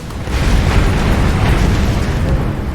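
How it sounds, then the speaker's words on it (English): An artillery shell explodes in the WW2 strategy video game War Mongrels, a loud, sustained booming roar of blast and rumble that fills the whole stretch without letup. "Incoming artillery fire!"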